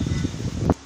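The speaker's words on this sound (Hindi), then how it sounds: "और देखिए कितनी तेज़ हवा बह रही है" Strong wind gusting outdoors after light rain, a short low rushing roar buffeting the microphone close up, with a brief sharper burst near the end.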